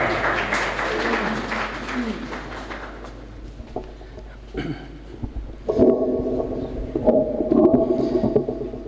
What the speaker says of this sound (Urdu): میں آپ کی تالیوں کی گونج میں گزارش کروں گا جناب ضیاء لکھوی صاحب۔